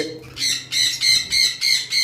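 Local lovebirds give six loud, close squawks in quick rhythmic succession, each harsh and shrill, with no talking.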